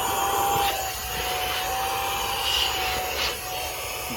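A KMM 9000Pa handheld car vacuum running steadily, a close, loud motor whine with airy rushing noise and slight shifts in pitch as it is moved, with no talking.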